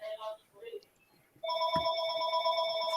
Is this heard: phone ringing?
yes